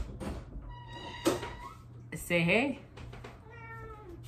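A cat meows once or twice in the background while people talk nearby; a voice also briefly imitates a meow.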